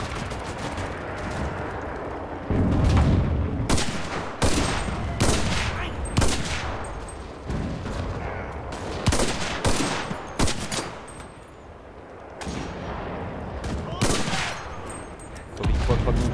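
Gunfire in the video game Enlisted crackles in repeated sharp bursts, some single shots and some rapid volleys, loud and close against a busy battlefield backdrop with brief gaps between.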